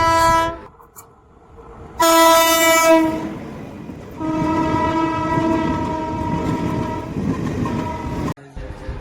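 A train arriving at Jayrambati railway station sounds its horn in loud, sustained blasts, with a brief pause and then a longer blast over the rumble of the rolling train, alone without talk.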